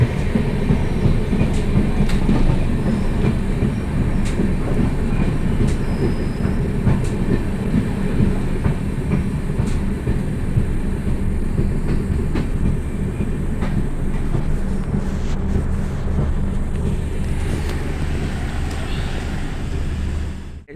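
A passenger train runs fast along a main line after leaving Naupada railway station, its steady rumble and rhythmic clickety-clack of wheels over rail joints filling the whole stretch, close and loud.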